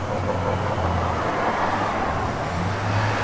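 A 1970 Plymouth GTX with a 440 V8 engine drives down the road, producing a steady, loud rumble mixed with road and wind noise.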